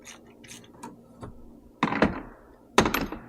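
Metal parts clicking and ratcheting as a part is threaded down onto an injector cup, with light ticks followed by two louder, close mechanical clunks and rattles.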